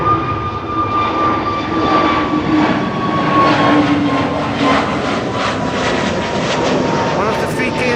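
Two Boeing 747s, KLM and Nippon Cargo, move at Schiphol heading out toward runway 18 left, their jet engines giving a loud, steady roar that holds throughout with only slight swells.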